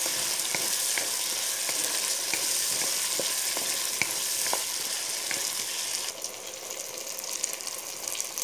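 Potato pieces fry together with meat in a pan, giving a steady close sizzle broken by small pops and crackles. The hiss thins and quiets toward the end.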